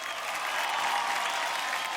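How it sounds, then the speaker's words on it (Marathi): Steady, dense applause from a television dance-show audience, moderately loud and continuous with no voices over it. "वैभव आणि प्रार्थनासाठी एकदा जोरदार टाळ्या."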